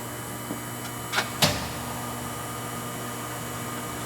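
A Hardinge TFB 11" x 18" precision toolroom lathe runs at about 1,000 RPM with a quiet, steady motor hum, preceded by a few soft clunks as it starts.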